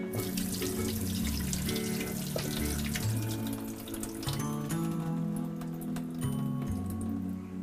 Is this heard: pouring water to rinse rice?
yes